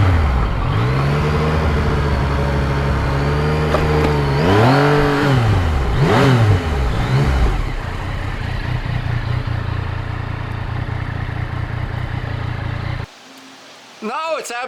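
A Yamaha MT-09 motorcycle rides along Route 80 near a farm. The engine rises and falls in a few revving swells, then holds a steady cruising hum before dropping off near the end.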